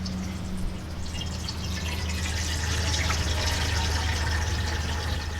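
Melted beeswax poured through a repurposed cotton underwear fabric filter, a steady trickling, dripping liquid sound with a low constant hum underneath, close and even throughout.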